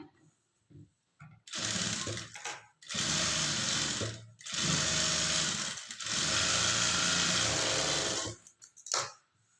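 A sewing machine runs in three long, loud bursts, top-stitching along a blouse border, with brief pauses between runs and a few short starts at the beginning and end; no talking.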